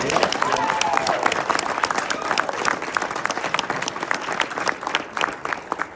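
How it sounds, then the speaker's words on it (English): A roomful of people applauding at an awards event, dense sustained clapping at moderate distance, with a voice briefly audible over it. "I'd love to give a round of applause to the women in this room"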